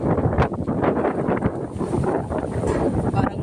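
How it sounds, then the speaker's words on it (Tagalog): Strong wind buffets the microphone in steady, loud gusts outdoors during a typhoon, a continuous roar with no voices heard. "Sobrang lakas ng hangin."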